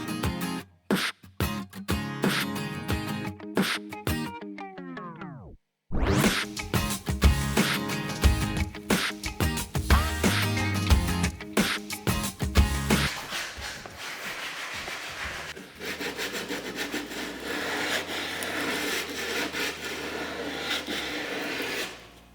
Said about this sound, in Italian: con l'aiuto del nostro seghetto alternativo scendiamo a sagomare la curva